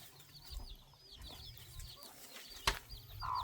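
Chickens cluck softly at a distance in a forest camp, their murmuring calls rising and falling over a low ambient background, with a brief sharp knock partway through and a faint tone near the end.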